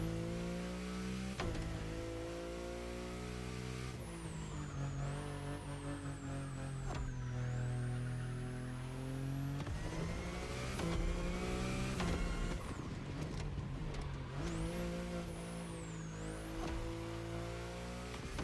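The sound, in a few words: BMW i8 sports car driving, from video game The Crew Motorfest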